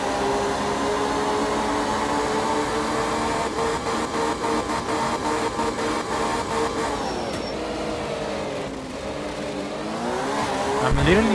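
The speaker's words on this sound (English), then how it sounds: "I'm literally slamming the accelerator all the way to the floor of the car." Rally car engine held at full throttle in the racing game Art of Rally, a loud continuous roar with shifting pitch and brief dips near the end, running throughout with no talking.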